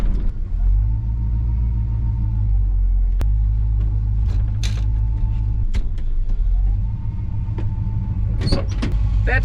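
Chevy C10 Squarebody pickup truck out on a test drive, its engine droning steadily with rising and falling pitch as it shifts and accelerates, plus a few sharp knocks and clunks toward the end, close and loud.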